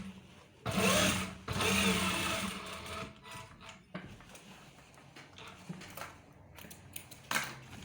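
A sewing machine stitches the inner seam of police uniform trousers in bursts, with a loud run early on, then quieter intermittent clicks and mechanical handling noises, close by.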